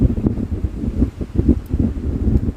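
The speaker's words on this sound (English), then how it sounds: "Oh my god, it's so windy out here." Strong wind buffets the microphone in a continuous, rumbling roar with gusty swells throughout.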